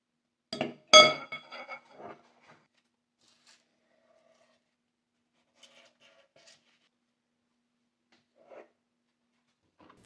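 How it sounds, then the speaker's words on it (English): Chocolate chip muffin batter is scooped into paper muffin cups in a pan, giving a cluster of close clinks and scrapes at the start, then sparse faint taps and rustles amid near silence. "we'll prepare a pan with muffin papers and scoop the batter evenly into them"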